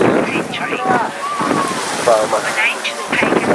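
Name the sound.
wind blowing at sea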